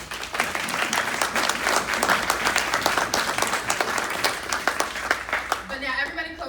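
A conference audience claps for itself in steady, full applause for several seconds before it thins out near the end, where a voice begins speaking.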